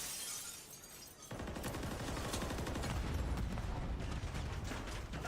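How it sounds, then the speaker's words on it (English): Sudden burst of heavy gunfire and blasts in a Call of Duty League match after a quieter moment, continuous rapid shots and explosions, loud and chaotic with no voices. "what a hail of explosives, gunfire, you name it"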